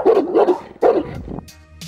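A Tosa Inu dog gives two deep, loud barks close by, followed by a softer trailing whine and a couple of faint yips.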